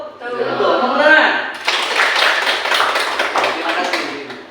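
Clapping from a classroom of students during a school lesson, a burst of many hands starting abruptly and continuing steadily, following a teacher's voice speaking before it.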